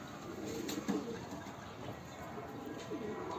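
Pigeon on a rooftop cooing softly among other birds, set against steady outdoor background noise with a few faint voices.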